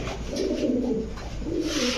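Imported German Beauty pigeons coo steadily at close range, low throaty rolling calls overlapping and repeating through the whole stretch with no talking.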